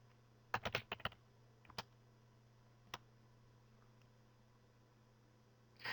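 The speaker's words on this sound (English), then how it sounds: "I'll just hit enter, and I'll type in the password" Keyboard keys tapped while entering a password at a Cisco UCCE system command line, a quick cluster of clicks followed by a few isolated taps, faint and close against a steady background hum.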